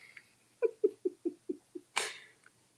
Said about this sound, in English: she's totally like snoring.